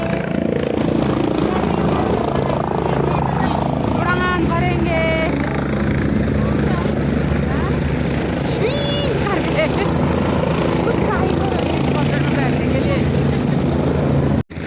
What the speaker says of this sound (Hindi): अभी हम यहाँ पे इंतज़ार कर रहे हैं हेलीकॉप्टर के आने का